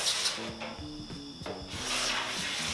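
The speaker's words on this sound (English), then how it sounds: "The easiest way to scrape the wax off your snowboard is to have it at a 45-degree angle like this and just pull the wax off." Plastic scraper dragged along a waxed snowboard base held at a 45-degree angle, peeling off wax in repeated steady rubbing strokes, close and fairly loud with no voices.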